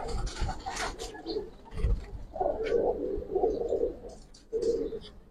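A Giribaz pigeon coos in low, rolling phrases, with a longer run of coos in the middle and another short burst near the end, close by among faint rustling and brief background voices.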